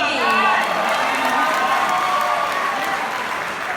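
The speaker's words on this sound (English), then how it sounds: "Don't clap for me" Audience clapping and cheering after a speaker introduces himself, a dense continuous applause with some shouts that holds steady and slowly fades toward the end.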